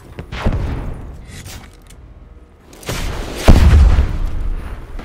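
Rocket explosions in the Call of Duty Black Ops 4 video game: heavy booming blasts with a deep thud around the middle, loud and close, following an earlier burst of gunfire-like thumps.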